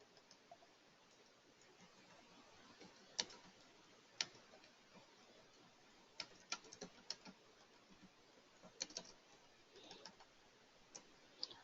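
Keys tapped on a computer keyboard while a chat message is written, sounding as faint, scattered clicks in irregular short bursts that stand out from a quiet background hiss.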